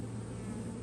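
Honeybees buzzing around a hive frame from a package colony, a soft, continuous low hum that holds steady for under a second.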